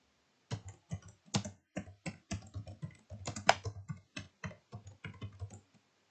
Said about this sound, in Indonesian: kita ketik di sel A2.